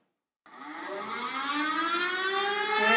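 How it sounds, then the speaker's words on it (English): An outdoor civil defense warning siren starts abruptly and winds up, its tone rising slowly as it grows loud and sustained. "outdoor warning siren"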